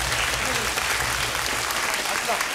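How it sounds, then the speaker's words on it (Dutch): A crowd claps steadily and loudly throughout, a dense wash of applause with some voices mixed in. "Klappen, jongens"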